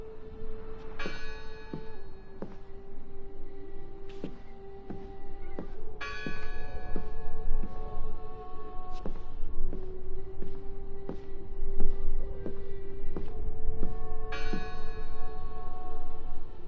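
Church bell in the game Draugen tolling repeatedly, with loud struck peals recurring every second or two over a steady low drone, ringing alone without speech.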